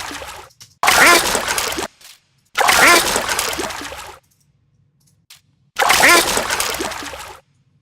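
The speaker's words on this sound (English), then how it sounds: "increase the volume of the ducks here" Duck quack samples layered in a Lego sound design mix, coming as three loud, dense bursts separated by short silences.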